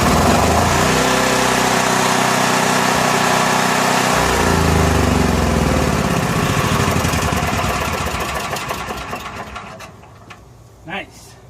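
A Honda 4000 watt generator runs loud and steady close by, its engine drone filling the first eight seconds before fading down to a faint hum, with a brief bump near the end.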